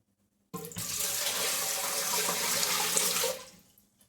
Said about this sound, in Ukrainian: Далі заливаємо звичайну холодну воду, так, щоб вода покрила баночки на 2 см водичкою кришки.